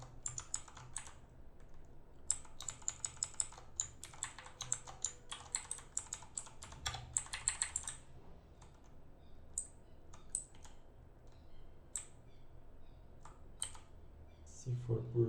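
Keys clack on a computer keyboard while code is written for a PHP test-driven development exercise, with dense bursts of typing in the first half and then sparser single clicks, all under a low room hum.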